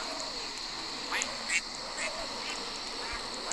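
Quacking ducks in a Roblox game, a few brief quacks around the middle over a steady soft hum, quiet and close, with no speech.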